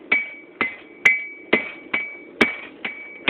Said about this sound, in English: Dan and Sam hammering away.